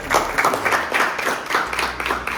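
Audience members at a company gathering clap in appreciation, a fairly close, continuous patter of hands with soft uneven peaks and no clear voice over it.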